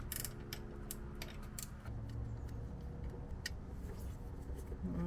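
A socket wrench ratchets on the alternator nut of a 1968 Ford Mustang engine, giving quiet, close clicking strokes in irregular runs with no talking.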